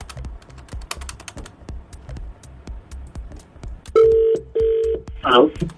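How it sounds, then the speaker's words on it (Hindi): A phone keypad beeps through a short run of dialing tones, followed by longer ringing tones, with soft tapping and clicks underneath. "फोन मिलाओ"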